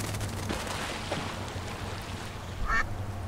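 Short burst of duck quacking in the game Secret Files 2, in a zoo, near the end, over a steady game soundtrack with low rumbling background.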